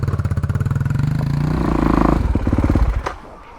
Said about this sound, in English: crank the bike and use its power to push it up the hill